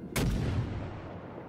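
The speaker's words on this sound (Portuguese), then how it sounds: "posicionou o canhão bem à frente dele e manda bala" A single heavy cannon shot in a naval Popeye video game, a loud close boom that hits sharply and then rolls off into a long decaying rumble with no talk.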